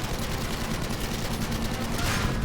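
Gunfire in the video game Battlefield V forms a dense, continuous roar of overlapping shots and crackling bursts, loud and unbroken, like a sustained firefight close by.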